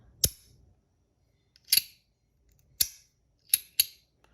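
A Compoform Astronaut metal fidget slider coin clicks sharply as it slides, five crisp, loud snaps at irregular intervals with quiet gaps between them.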